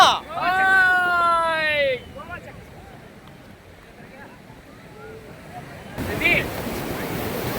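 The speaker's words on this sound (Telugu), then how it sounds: "అరేబియన్ సముద్రం ఫస్ట్ టైం చూస్తున్నాము" Arabian Sea surf at Calangute beach in Goa rolls in as a broad, steady wash with wind rumble, while a voice talks near the start and a brief high squeal cuts in near the end.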